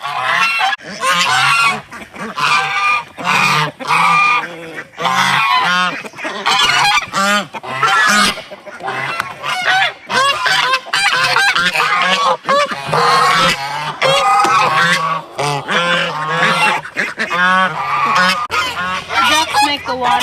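Geese and ducks on the water honk loudly and repeatedly, close by, with overlapping calls in rapid bursts throughout.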